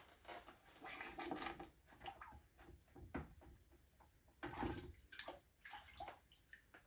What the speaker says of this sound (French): Je vais la tremper dans l'eau.